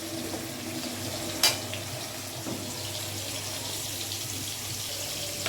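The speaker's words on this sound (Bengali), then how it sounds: "আর এদিকে মাছ ভাজা চলছে।" Fish fries in hot oil with a continuous, even hiss and crackle, close and steady, with one sharp clink partway through.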